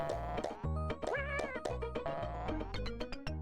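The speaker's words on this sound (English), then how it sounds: "That was a cat noise." A synthesized cat meow from the Dennis the Menace video game rises and falls once over busy chiptune music and percussion, the music continuing loud throughout.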